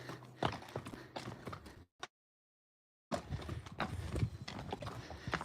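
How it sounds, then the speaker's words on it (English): Friesian horse hooves clip-clop steadily on a hard surface, a rhythmic clatter that cuts out briefly before resuming. "So the horses, yeah, they're all Friesian horses."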